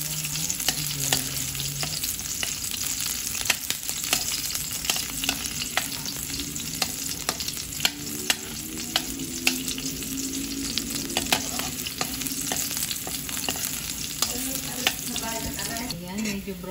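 Garlic frying in a hot pan for ginataang sitaw, a steady dense sizzle with faint stirring clicks throughout, close and fairly loud, with no talk.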